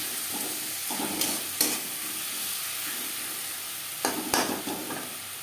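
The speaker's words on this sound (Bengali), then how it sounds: "পেঁয়াজ টমেটোর সাথে মশলা বেশ ভালো করে কষিয়ে নেব।" Spices, onion and tomato are stir-fried for a Bengali fish curry, giving a steady sizzle with a few distinct spatula scrapes and knocks against the pan, near and moderately loud, without speech.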